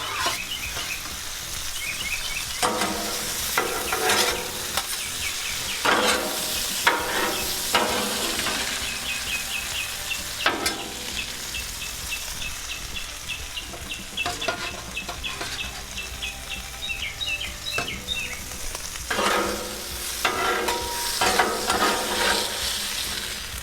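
Shrimp fry in garlic butter and Hooters sauce on a Blackstone griddle, giving a steady broadband sizzle throughout. Bursts of scraping and stirring rise above it at intervals, and a high chirping sits faintly in the background.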